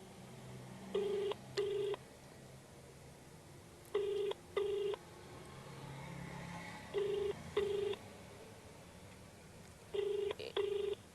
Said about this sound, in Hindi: ये बेल पूरी गई, एक बार फिर से हम ट्राई करते हैं